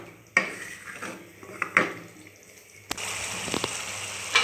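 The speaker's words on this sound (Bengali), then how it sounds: "এবার যতক্ষণ না এটা তেল ছাড়ছে ততক্ষণ আমরা মশলাটাকে ভালো করে কষবো।" Spice paste for a vegetarian potato curry is stirred in a pan, with a few sharp metal utensil scrapes and knocks over a low, steady background.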